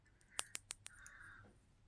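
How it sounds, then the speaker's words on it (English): Small birds chirping outdoors, faint and distant: a few sharp chirps, then a short thin trill, with quiet indoor handling clicks and no talk. "You can hear the birds outside chirping."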